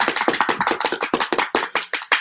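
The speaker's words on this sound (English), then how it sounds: "let's have some studio audience applause" A small group at a dive resort claps for a few seconds, fairly close, with quick uneven hand claps and no voices.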